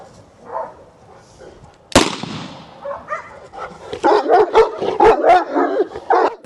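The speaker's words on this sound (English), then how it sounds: "They know exactly where the gunfire sound is coming from." A sharp gunshot cracks once during protection dog training, then a Presa Canario dog barks repeatedly in quick bursts nearby, with faint voices murmuring before the shot.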